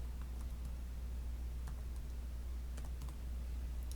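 Someone types a title on a computer keyboard: a run of light, quick key clicks, unevenly spaced and fairly faint over a low steady hum, with no talking.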